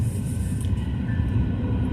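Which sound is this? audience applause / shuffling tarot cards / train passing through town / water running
train passing through town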